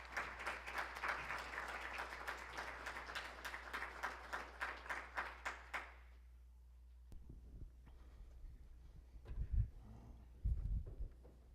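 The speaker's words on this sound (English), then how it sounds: "let's give them a round of applause" A lecture audience at the University of Arizona applauds visiting speakers with dense, lively clapping for about six seconds. The clapping then stops abruptly, leaving room tone with a few soft thumps and microphone handling noises.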